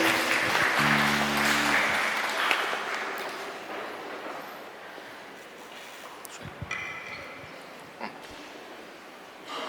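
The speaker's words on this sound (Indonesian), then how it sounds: "Tepuk tangan untuk kolom" Congregation applause fills a church service, loud clapping at first that gradually thins out, with scattered shuffles and small knocks as the room settles.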